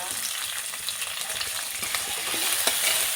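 Capsicum and cabbage are stirred in a hot pan, giving a dense, close frying sizzle with rapid, repeated spatula scrapes that build slightly toward the end.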